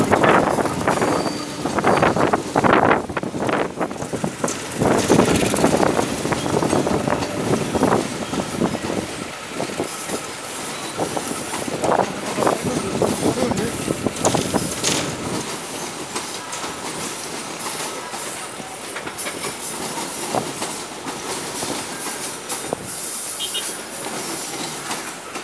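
Locomotive CC20127 hauls the KA Lokal Baraya local train past, with a loud rumble, rhythmic clickety-clack of wheels over rail joints and some wheel squeal that gradually eases; brief talk is heard.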